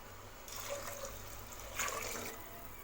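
Water pours into a cooking pot in a short, soft rushing stream, splashing briefly before tapering off.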